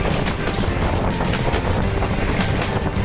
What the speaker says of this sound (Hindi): जब ट्रेन ऐसे मूव करती है ना तो क्या ही सीन लगता है यार